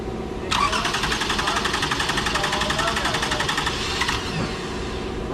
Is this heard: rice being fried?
no